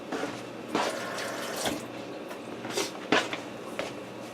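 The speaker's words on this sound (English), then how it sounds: "Give my hands a quick rinse." Water running from a kitchen tap as hands are rinsed during cooking prep, a soft steady splash with a few louder bursts and clinks, close by with no talking.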